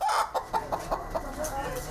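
Prize-winning pullets cluck in a quick run of short, sharp calls close by, with a brief crow-like note toward the end; a voice murmurs faintly underneath.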